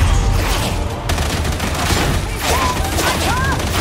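Enemy gunners in a shooter video game fire dense, continuous bursts of gunfire at the player, loud and sustained throughout.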